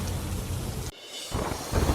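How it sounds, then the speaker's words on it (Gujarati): Dense roar of a heavy downpour, loud and unbroken apart from a brief dip near the middle, with no voices. "ધોધમાર વરસાદના કારણે ગામમાં ઘૂસ્યા વરસાદી પાણી."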